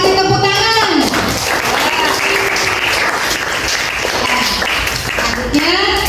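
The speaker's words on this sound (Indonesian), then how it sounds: "Kita kasih tepuk tangan." A classroom full of students bursts into loud, sustained clapping that fills the room for several seconds, with some voices mixed into the applause.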